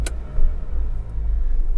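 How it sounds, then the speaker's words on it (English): A car with a B12 Chemtool oil-consumption treatment drives at 60 mph in third gear, giving a loud, steady low engine and road rumble with brief wind swells, with no talking. "we need to get out there 60 miles an hour in third gear"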